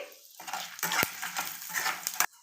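Dried red chillies fry with coriander seeds, cumin and fenugreek in a pan, giving a soft sizzle. A spoon scrapes and clinks against the metal in irregular stirring strokes, close and fairly quiet.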